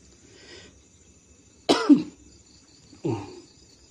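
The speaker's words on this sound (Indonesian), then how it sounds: "Aku beberapa kali batuk karena ini loh ya, asapnya dupa ini." Two sharp coughs from a person irritated by incense smoke, the first a strong double burst near the middle and a shorter one about a second later, close and clear over a quiet room.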